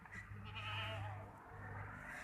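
A castrated male goat at a livestock sale gives one drawn-out, wavering bleat, close and clear, with a quieter second cry trailing after.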